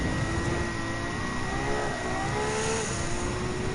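Racing car engine in Gran Turismo 7 holds a steady, loud drone with rising pitch as it accelerates hard past a Ferrari F8 Tributo, continuous throughout with no talk.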